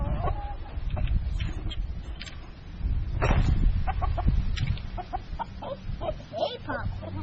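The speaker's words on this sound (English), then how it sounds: "wish us luck about getting the chickens in this cage" Chickens cluck and squawk in scattered bursts outdoors as they are moved into a cage, with rustling and handling noise underneath.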